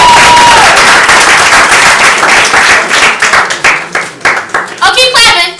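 Audience applause and cheering for the performer Prodigy at a spoken-word event, a loud dense wash of clapping that thins into scattered claps, with voices calling out near the end.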